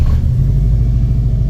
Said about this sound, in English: So that was the first time I've started this car on a Haltech